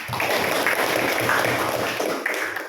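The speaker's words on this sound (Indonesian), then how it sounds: "Beri tepuk tangan" Students in a classroom applaud their classmates with a dense burst of many hands clapping, close and sustained, then tapering off near the end.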